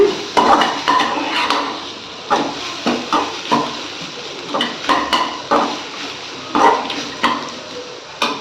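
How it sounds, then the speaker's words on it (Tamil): A spoon stirs and scrapes a salted grated raw banana mixture in a metal pan, a series of close, loud clinks and scrapes in irregular bursts, heard alone. "சேர்த்துட்டு நல்லா கலந்து விடுங்க."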